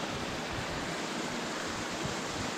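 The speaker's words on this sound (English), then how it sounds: "By the sound of running water." A mountain stream runs steadily, a constant soft broadband rush of water that is fairly faint and heard alone with no talk.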